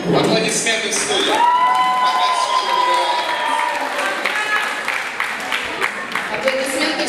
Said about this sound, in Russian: Еще давайте аплодисменты в студию.